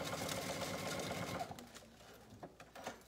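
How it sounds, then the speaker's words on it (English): A sewing machine back stitching on vinyl with a straight stitch: a quiet, close burst of rapid needle chatter, then several sparse clicks and taps as it slows. "So this should stitch along really nicely, and going back to the straight stitch,"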